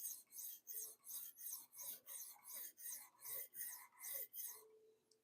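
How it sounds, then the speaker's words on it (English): A knife is drawn across a sharpening stone in a steady series of about ten rasping strokes, close and quiet, each pass a short scraping swish followed by a brief pause. "Just another day in the another day on the sharpening stone, buddy."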